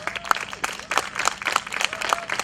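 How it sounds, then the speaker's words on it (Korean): An audience claps at a festival opening ceremony, the applause crisp and continuous with sharp individual claps standing out close by. "박수를 주세요"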